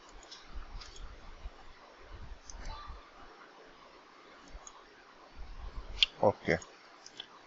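Mouse clicks in CAD surface-modelling software come as a few quiet, scattered clicks, with a sharper cluster near the end, under soft low talking.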